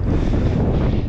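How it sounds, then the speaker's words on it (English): Constant low roar of wind buffeting the microphone outdoors, loud and close, with no speech. "It's pretty windy out here today."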